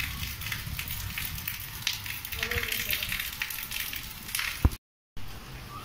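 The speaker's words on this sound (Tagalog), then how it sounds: "Ang lakas ng ulan dito sa Abu Dhabi" Heavy rain falls behind a house in Abu Dhabi as a constant close hiss and patter, with a person talking over it, a sharp knock near the end and a brief dropout.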